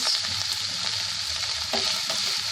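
Boiled chicken and mushrooms fry in a pan for pasta, a dense continuous sizzle close up with faint stirring clicks and no speech.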